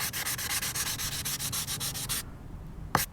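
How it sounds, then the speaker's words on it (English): Wet sanding of velomobile gelcoat by hand, rhythmic back-and-forth scrubbing strokes close up for about two seconds, then quiet with a single short knock near the end. "it really doesn't take much once you've got past that first sanding to get it down more or less level"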